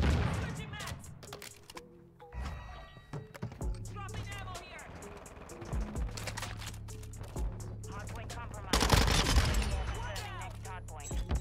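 Rapid automatic gunfire from a Minibak submachine gun in Modern Warfare 2 multiplayer, bursts rattling across the match with game effects and a voice talking over them.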